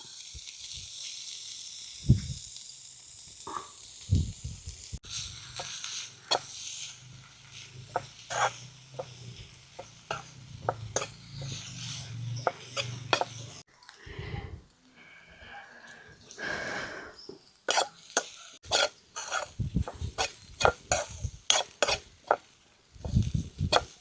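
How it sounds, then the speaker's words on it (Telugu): Dried prawn shells being fried and stirred in a pan for a gongura prawn-shell chutney, giving steady sizzling with repeated scraping and clinking of a spoon against the pan, close and fairly loud throughout with no talking. "ఇప్పుడు మనం రొయ్యి పొట్టు కూడాను వేయించుకుందాం"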